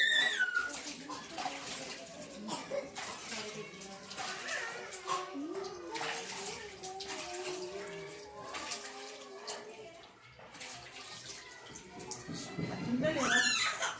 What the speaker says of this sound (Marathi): आता आपली पाणी हात धुवायचे.